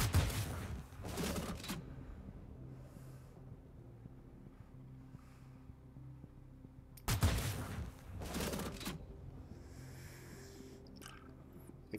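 A cannon opens fire in two separate bursts, each a loud, close cluster of sharp blasts, with a low rumbling hum carrying on between them.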